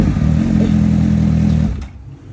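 A big motorcycle engine runs with a loud, steady low rumble up close, then cuts off abruptly near the end, leaving faint background noise.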